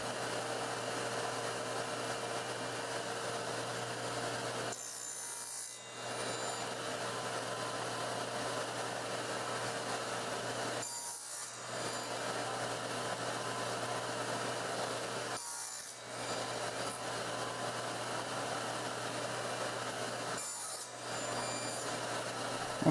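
Wooden dowels being cut to length in a woodshop, a steady rasping cutting noise running close and continuous, broken by four brief pauses.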